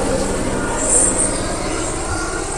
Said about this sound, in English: Oh, it's a police helicopter.